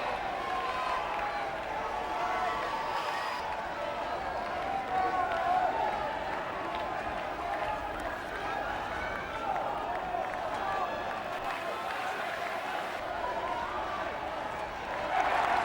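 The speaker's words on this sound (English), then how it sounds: "Children shouting away and very excited too" Excited children shout and cheer amid a dense election-rally crowd, a continuous loud babble of voices with scattered clapping throughout.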